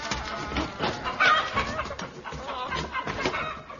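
Several chickens cluck and chatter close by, a busy overlapping flurry of clucks and squawks lasting the whole stretch.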